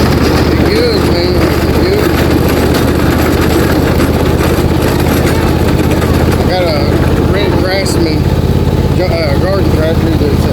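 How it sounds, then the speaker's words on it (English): An engine hums steadily from a garden tractor stored in a barn, a constant loud drone throughout while people talk over it. "Garden tractor that's at my dad's, stored in the barn."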